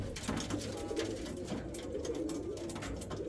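Racing pigeons cooing in a loft, a soft repeated cooing over a low background hum, fairly near and steady with no speech.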